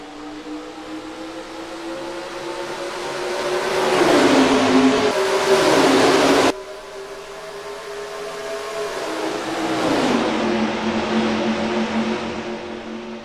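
Stock cars in NASCAR Racing 2003 roar away at the green flag at Atlanta, a loud, layered engine drone that swells as the pack accelerates, drops briefly, then builds again with rising pitch.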